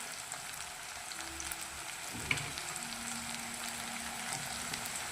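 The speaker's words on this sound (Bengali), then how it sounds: "পেঁয়াজটা লাল হতে থাক।" Onion fries in a pan, a soft steady sizzle and crackle with one brief clink of a utensil partway through.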